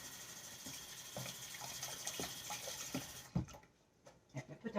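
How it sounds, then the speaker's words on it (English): Hands washed under a running kitchen tap, with a steady hiss of flowing water that cuts off partway through, followed by a few soft clunks and handling noises, close and moderately quiet. "Let me wash my hands."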